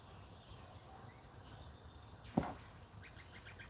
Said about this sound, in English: I just heard a whip bird.